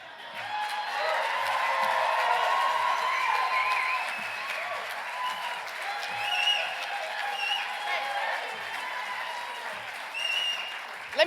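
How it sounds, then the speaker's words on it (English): Loud audience applause mixed with cheering and whoops for a keynote speaker at an organizing event, swelling early, dipping and rising again, with voices shouting over the clapping. "I'm gonna need some more applause"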